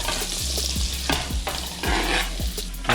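Potatoes for home fries sizzle steadily in hot oil with mustard seed, cayenne, turmeric and chili lime, while a utensil scrapes and stirs the pan in several sharp strokes over the constant frying hiss.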